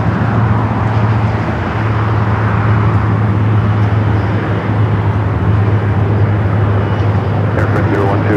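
Loud, continuous low roar of a jet airliner at LAX, an Emirates Airbus A380 approaching runway 25 left, with a steady rumbling drone that stays strong throughout, mixed with a broad airport background.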